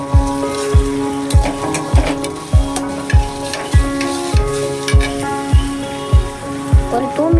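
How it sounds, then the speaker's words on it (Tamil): Onions fry in hot oil with cinnamon, cloves and curry leaves, giving a loud, steady sizzle broken by regular knocks as a spoon stirs the pan about once every second. "ஆனியன் போட்டு நல்லா ஃப்ரை பண்ணலாம்."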